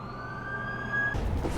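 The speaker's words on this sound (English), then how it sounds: "That's the ambulance I called." An ambulance siren holds a steady wailing tone, fairly faint and distant, then cuts off abruptly into a burst of broadband noise.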